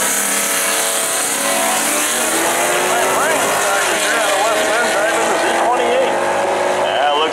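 A 1956 muscle car with a 454 cubic inch big block races at a drag strip, its engine roaring steadily with rising revs under a loud announcer's commentary.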